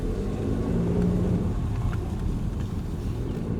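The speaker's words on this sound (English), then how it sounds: "I just want you guys to hear the car a little bit" A catless BMW 440i with a stage 2 tune idles and drives, giving a deep, steady low rumble with a slight swell as it pulls, close and continuous with no voices.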